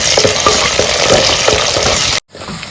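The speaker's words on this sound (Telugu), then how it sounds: "ఉల్లిపాయలు ఫ్రై అయిపోయినాయండి." Sliced onion frying in a pan for an Andhra-style meal, a loud close steady sizzle and crackle that cuts off abruptly near the end, followed by a faint hiss.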